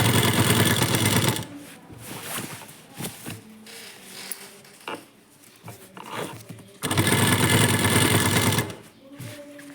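A sewing machine stitches sleeves onto a churidar in loud bursts, running steadily at the start and again near the end, with quieter handling noises and pauses in between.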